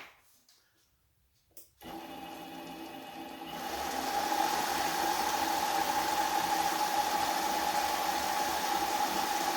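A Harbor Freight mini lathe starts after a quiet moment and runs with a steady motor whine, the hiss rising as the cut begins and then holding constant and fairly loud to the end.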